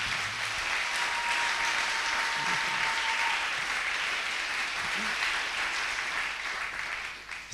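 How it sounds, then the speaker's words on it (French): A church congregation applauding, a dense, steady wash of clapping that fills the room throughout and thins slightly at the very end. "Est-ce qu'on peut l'acclamer encore une fois?"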